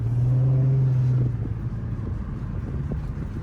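An Infiniti G35 engine drones with a steady low tone that drops away after about a second, leaving a rougher rumble and buffeting noise as the car moves.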